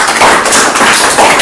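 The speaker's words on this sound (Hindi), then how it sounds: "ताली बजाओ।" Schoolchildren in a government primary school classroom clap together in brief bursts of rhythmic applause, close and loud, with no talking.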